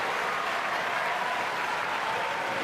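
Badminton crowd applauding steadily in the stands at a semifinal of the 2014 Australian Open, a dense, continuous wash of clapping from many spectators filling the hall throughout.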